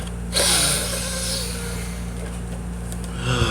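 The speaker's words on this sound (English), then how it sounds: "I can't stop sniffing this raccoon." Close, repeated sniffing and snorting breaths at a Rocket Raccoon action figure, fairly loud, over a steady low hum in a quiet room.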